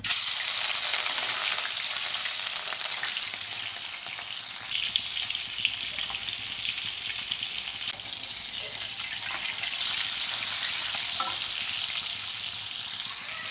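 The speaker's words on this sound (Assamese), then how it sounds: "ৰঙা হোৱালৈকে মাছটো ভাজিব লাগিব।" Fish sizzles steadily in hot oil in a wok for Assamese fish and taro curry, a loud continuous hiss and crackle with no break and no talking.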